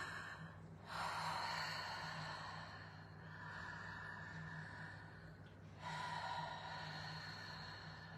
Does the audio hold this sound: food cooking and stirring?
no